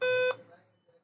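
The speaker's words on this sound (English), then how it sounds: "it is beeping for some reason" A Dell Inspiron 5458 laptop with a no-power fault gives a single sharp electronic beep, loud and tonal, lasting a fraction of a second before cutting off, followed by faint murmuring.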